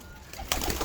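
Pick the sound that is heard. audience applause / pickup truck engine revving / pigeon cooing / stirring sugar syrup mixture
pigeon cooing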